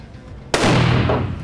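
A .308 Winchester rifle fires one Federal 150 grain cup-and-core round at a test block outdoors: a single loud, sharp crack after a brief quiet moment, followed by a booming tail that fades slowly.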